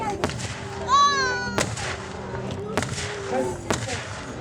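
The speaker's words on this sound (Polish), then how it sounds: "Wspierała się własna, lekka artyleria." Light artillery fires at a historical battle reenactment during the 2017 military vehicle rally in Darłowo, with four sharp, loud bangs spaced about a second apart and a brief whistling tone, heard under ongoing commentary.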